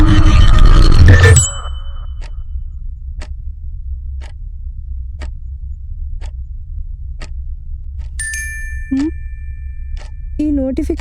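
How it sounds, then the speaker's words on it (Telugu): A phone notification chime rings once after a loud burst at the start, then a steady clock-like tick repeats at even intervals over a low hum, with a second chiming tone near the end. "ఈ నోటిఫికేషన్ ఏంటి?"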